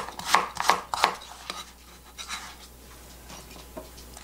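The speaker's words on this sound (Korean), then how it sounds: "당근은 이렇게 조금만, 이렇게 한 100g 정도 좀 이렇게 큼직하게 썰어 넣겠습니다" Carrots chopped into large chunks on a cutting board for Andong jjimdak: three sharp, close knife knocks in quick rhythm, then several softer, scattered cuts, with no voices.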